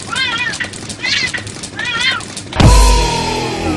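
Cats fighting give out several drawn-out, wavering yowls in close succession, then a sudden loud thump and scuffle as the fight breaks out, followed by lingering noise.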